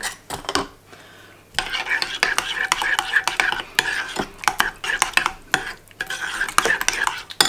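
Chopped onion goes into a pan and is stirred, producing irregular bursts of scraping and clattering utensil strokes against the pan over a faint sizzle, with brief pauses between.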